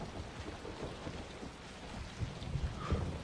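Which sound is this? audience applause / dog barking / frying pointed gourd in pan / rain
rain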